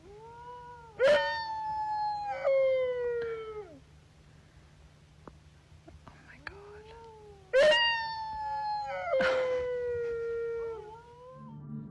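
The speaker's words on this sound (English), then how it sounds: "I've been able to hear dingoes howling" Wild dingoes in the Australian bush give drawn-out howls that bend downward, a couple of loud nearby bursts with quieter stretches between them.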